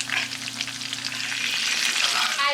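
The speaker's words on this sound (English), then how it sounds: "you're going to go ahead and add it to your frying pan" Breaded chicken sizzling and crackling in hot oil in a frying pan, a steady dense frying hiss throughout with a low hum underneath, fairly close and loud, no talking.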